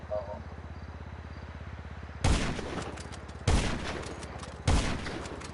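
Three heavy sniper rifle shots in GTA 5, each a loud booming crack with a short decaying tail, spaced roughly a second apart over a low steady background hum.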